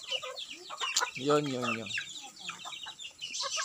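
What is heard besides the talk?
pet chickens clucking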